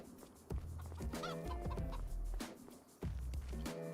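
Chickens in the farming video game Farming Simulator 25, a busy flock clucking and squawking close by, with repeated sharp calls over a constant layered backdrop of hen chatter.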